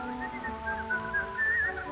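Melodic whistling of a cheerful tune from a 1930s Snow White radio show, a bright wavering line running steadily over soft background music and gentle rain, with no talk.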